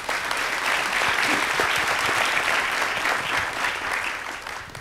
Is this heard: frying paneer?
no